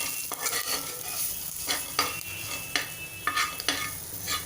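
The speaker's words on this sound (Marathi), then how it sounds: "आता आपण हे हळद आणि हिंग घालून घेऊया। हे तेलात छान मिक्स करून घ्यायचं आहे।" Turmeric and asafoetida go into hot oil for green moong dal khichdi, a soft sizzle under repeated spoon scrapes against the pan, with bursts of stirring clatter spaced every half second or so.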